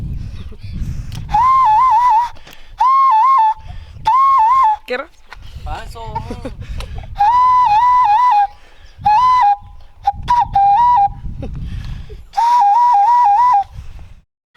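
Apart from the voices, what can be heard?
human whistle for herding goats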